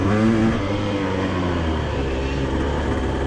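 A 2-stroke dirt bike engine revs on the throttle during a race through wooded terrain at a fun pit track, loud and continuous with a droning, harmonic buzz that holds steady then roughens as the pitch shifts.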